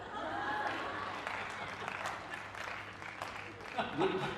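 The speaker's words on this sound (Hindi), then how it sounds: "तालियां बजानी है तो बजा दी।" A crowd at a Hindi comedy poetry show claps in a fairly soft, scattered round that swells and thins, heard under a voice speaking over it.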